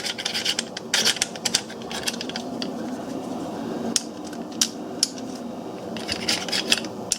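Metal scrapes and rasps against metal as the bolt is worked out of a Ruger MK III pistol, with close, scratchy rubbing in uneven bursts and no talk.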